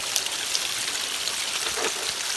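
A steady, even rush of water pours over stacked rock layers at Chim Yai waterfall in Phetchabun after fresh rain, with a constant hiss and no voices.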